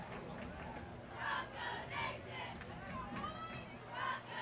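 A high school cheer squad at a football game chants in rhythmic bursts, several loud group shouts rising and falling over distant crowd murmur in an open stadium.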